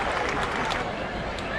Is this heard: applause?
yes